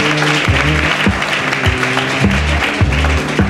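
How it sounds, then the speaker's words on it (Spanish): Strong applause at a tribute event for the Spanish Association Against Cancer in Marbella, a loud continuous patter of many hands under a repeating low musical pattern that runs throughout. "Un fuerte aplauso para todos."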